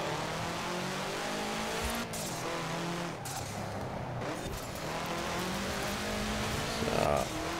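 Subaru race car with a 2-litre turbocharged boxer four-cylinder in Forza Horizon 4, its engine droning steadily under acceleration with tire noise, a brief flare near the end, loud and continuous throughout.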